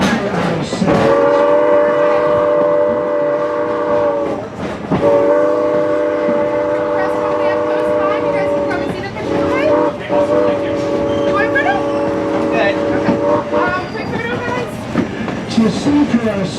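Strasburg Railroad train heard up close in the countryside, a loud, steady multi-tone horn held across most of the passage with two brief breaks, over a continuous rumble of rolling wagons.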